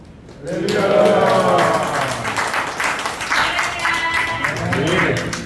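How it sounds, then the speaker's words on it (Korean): Warm applause from a church congregation at a men's fellowship morning service welcoming a preacher to the front, dense steady clapping that starts abruptly and holds for several seconds, with scattered voices and cheers mixed in. "큰 박수로 환영하시겠습니다"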